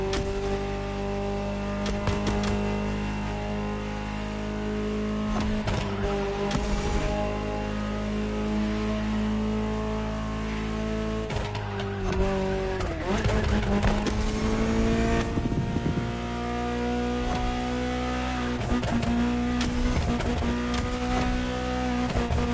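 A Ferrari supercar engine in The Crew Motorfest video game revs and drones, its harmonic tone rising and falling with several sharp throttle blips over about twenty seconds, loud and alone.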